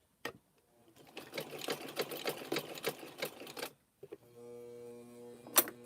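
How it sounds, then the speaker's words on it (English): A sewing machine back stitching through clothesline rope wrapped in fabric, a short burst then a longer fast rhythmic run of stitches, a pause, and a steady motor whir, close and clear. "where the pin is, I'm going to back stitch"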